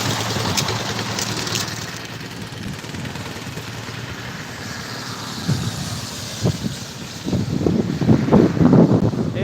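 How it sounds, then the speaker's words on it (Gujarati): Strong pre-rain wind in Vallabhipur, Gujarat, buffeting the microphone in rumbling gusts, growing louder and more turbulent toward the end. "પવન આવી રહ્યો છે અત્યારે"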